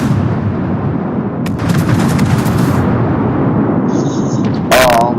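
Naval guns firing in World of Warships, with booming shots and a rumbling, hissing battle backdrop. A player talks over them while shells land.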